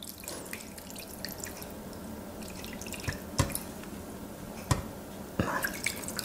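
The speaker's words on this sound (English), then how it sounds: "add a little bit of this stock that we made into the bottom of the pan" Homemade stock is poured into the bottom of a pan for Italian-style stuffed artichokes, a quiet liquid trickle marked by a few sharp splashes and drips.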